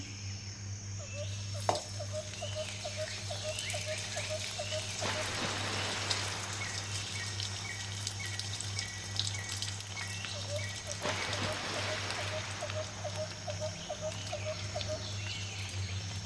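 Potato and vermicelli bird's nest snacks sizzle in hot oil, a steady crackling bubble with sharper spits, while faint repeated bird calls carry in the background.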